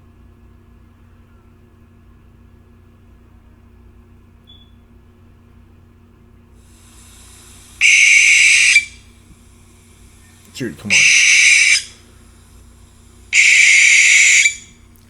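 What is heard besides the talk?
owl hooting, played recording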